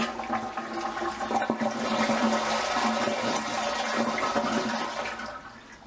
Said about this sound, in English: Now we'll give her a flush.